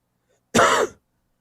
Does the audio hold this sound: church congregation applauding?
no